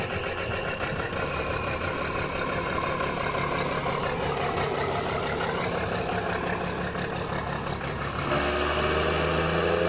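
A 1,000-horsepower twin-turbo truck engine runs loud and close in a continuous throaty drone with dense mechanical texture, its tone shifting and swelling louder near the end; no voices.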